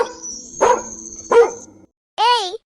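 An African wild dog gives several sharp, high, close calls: two short barking yelps followed by a rising and falling whining squeal after a brief pause.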